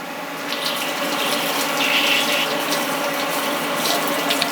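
Coolant sprays steadily from a washdown hose on a machine tool, a continuous hissing, splashing flow heard close and fairly loud, without speech.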